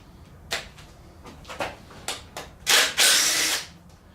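A ratchet wrench with a 10 mm socket loosens the timing chain cover bolts on a GM LS engine being torn down. A few sharp close clicks come first, then a rapid sustained ratcheting burst, with no voices.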